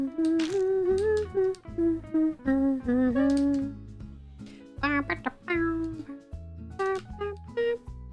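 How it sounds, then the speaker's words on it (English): A pet cat gives a string of loud, close meows, some drawn out and wavering, over bouncy game music with a rhythmic bass beat. Between calls there are brief pauses and no talking. "My cat everyone just coming at the same time."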